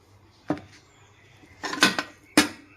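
A spoon taps and scrapes against a metal steaming mould while a mixture with cashew and almond is placed into its cavities, three sharp metallic clinks spaced apart in a quiet kitchen.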